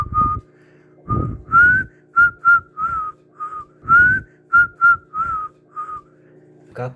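A person whistles at night in a run of short, clear notes with a few longer rising tones, close and loud against a quiet background.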